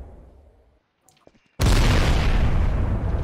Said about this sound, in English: Brandon, start focusing all bombs on this side of the bridge.